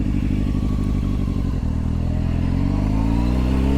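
Honda CBR600 F4i motorcycle fitted with an aftermarket Yoshimura exhaust, heard close and loud while riding, a steady deep engine drone with a dip and clatter midway before the revs settle into a smooth rising tone.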